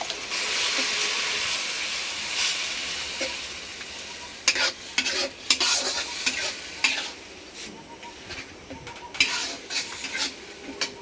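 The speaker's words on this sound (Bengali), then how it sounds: "মশলাটা কষে নিলাম" A spice paste of turmeric, chili powder, green chili, coriander and cumin powder is stir-fried in a pan, a steady sizzle at first, then sharp, irregular spatula scrapes and clanks against the pan over the frying, with no talking.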